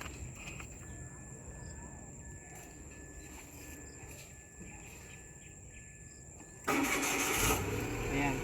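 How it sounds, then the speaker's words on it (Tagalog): A car engine cranks and catches in a sudden loud burst near the end, breaking a quiet stretch filled with steady insect chirping and a voice talking. "Start muna natin yung sasakyan mga kaloyal."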